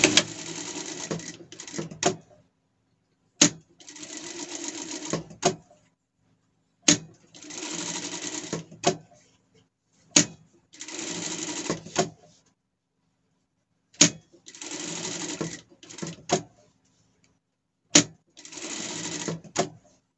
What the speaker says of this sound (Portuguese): Vamos de dois em dois passar uma costura aqui.